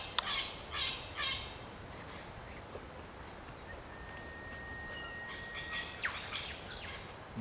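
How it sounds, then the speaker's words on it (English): Birds squawk and chirp in the bush in the morning at a camp, with scattered bursts of calls and one long thin whistle, faint and at some distance over quiet background. "Nothing better than just waking up to the sound of birds in the morning."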